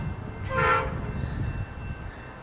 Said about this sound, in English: Here comes the G-Class unknown train on the Warrnambool Freight.